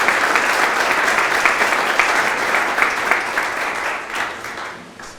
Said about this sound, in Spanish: Le daremos un aplauso más, le agradeceremos por la valentía de compartir su historia